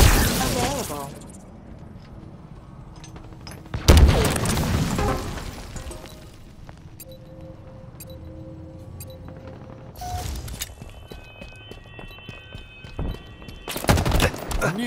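Heavy impacts and explosions of a Cinder Shot strike in Halo Infinite, with loud bursts at the start, around four seconds and near the end, separated by quieter stretches of game ambience and faint tonal effects.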